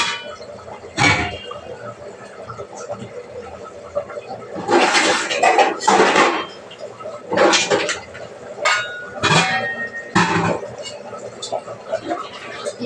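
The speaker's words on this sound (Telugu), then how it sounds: "10 గ్లాసెస్ వాటర్ పోసుకోవాలి." Glassfuls of water are poured onto uncooked rice in a pot, heard as several separate loud splashing gushes with quieter pauses and a few light clinks between them.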